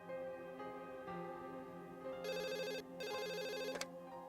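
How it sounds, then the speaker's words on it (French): A telephone ringtone plays melodic electronic tones that repeat in bursts, clear and fairly close, with no one speaking over it. "Je dois répondre au téléphone."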